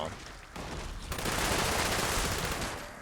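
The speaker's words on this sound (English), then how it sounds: "I'm not used to shooting in third person." Dense, continuous automatic gunfire from third-person shooting in Fallout 76 bursts in after a brief quieter lead-in, rattling loud and sustained for several seconds with a faint voice underneath.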